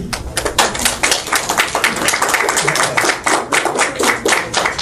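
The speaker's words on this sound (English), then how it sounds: "We stay around for the clapping, but that was extra special." An audience claps for a speaker after a talk, a dense, steady patter of many hands, loud and close, continuing without talk over it.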